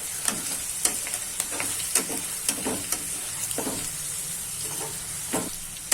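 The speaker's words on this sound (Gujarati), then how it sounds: "તેલમાં ચડશે એટલે ગુંદાની ચીકાશ એકદમ વહી જશે." Gunda (glue berries) fry in hot oil with a close, bright crackling sizzle, punctuated by repeated sharp scrapes and taps of a spoon stirring the pan.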